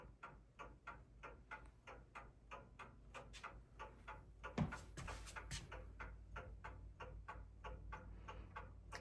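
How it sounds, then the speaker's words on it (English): A clock ticks steadily and evenly, close by, with a single soft knock partway through and no talking. "Clock sounds kind of loud."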